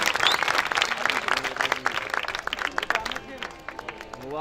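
A crowd at an urs gathering at the Mira Datar chilla in Uttan Bhayandar claps to welcome a guest, with dense, close applause that thins toward the end.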